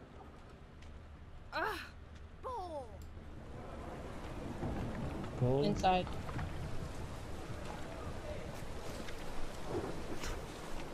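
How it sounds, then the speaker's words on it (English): Rain-soaked thunderstorm ambience in the Witcher 3 video game, a steady wash of rainfall with a low rumbling swell midway, while someone speaks briefly and another voice talks quietly over it. "Ooh, storm."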